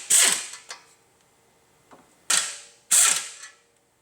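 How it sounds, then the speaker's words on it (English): An air ratchet loosens the pressure plate bolts on a Jeep Wrangler Rubicon clutch in sharp, loud bursts of rattling, with a couple of short blips between them and quiet gaps. "I'm going to use a small air ratchet or air gun to loosen these bolts."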